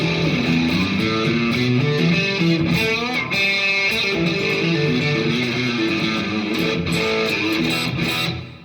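Bright electric guitar, a modded Charvel DK24, plays a run of chords and single notes with a crisp, twangy, quacky single-coil tone and no hum, steady and close.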